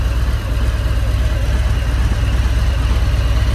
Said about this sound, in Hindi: इसका वी ट्विन इंजन